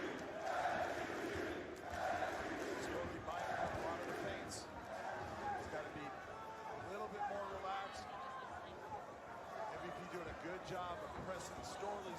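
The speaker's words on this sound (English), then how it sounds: "Listen to the crowd." A large crowd roars and chatters steadily in a big echoing arena at a PFL mixed martial arts event in Sioux Falls, with shouts rising above the din throughout.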